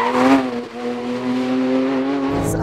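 A Porsche 992 GT3 Manthey Racing engine sings at high revs as it drives fast over a crest on the Nürburgring Nordschleife, a steady loud onboard wail with a brief dip in pitch around a shift before climbing again.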